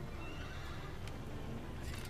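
A horse neighs loudly in the video game Shadow of the Colossus, a sustained whinny with hoof clip-clop beneath, close and prominent over steady game ambience.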